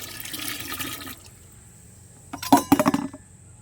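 Rice-washing water mixed with sour buttermilk is poured from a bucket onto garden plants. After a quiet stretch comes a short close burst of splashing and gurgling with a few clinks.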